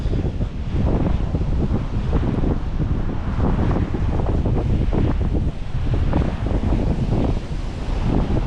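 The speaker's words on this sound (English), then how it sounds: "Here, big blue, the good old Atlantic Ocean." Atlantic Ocean waves and wind on the beach at Kitty Hawk, North Carolina, under red flag conditions, with loud continuous surf roar and heavy wind buffeting the microphone.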